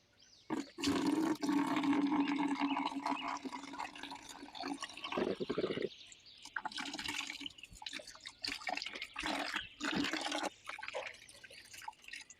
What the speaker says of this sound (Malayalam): നല്ല വൃത്തിയായിട്ട് നല്ല തണുത്ത വെള്ളത്തിൽ ഇത് കഴുകിയെടുക്കാവേ